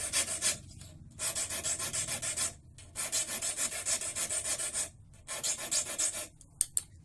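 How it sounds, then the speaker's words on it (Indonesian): Round metal file rasping in strokes while shaping an XL Petruk-model gimlet, four long bursts of loud, close filing separated by short pauses, ending with a couple of sharp taps. "kita langsung menggunakan kikir bulat ya teman-teman"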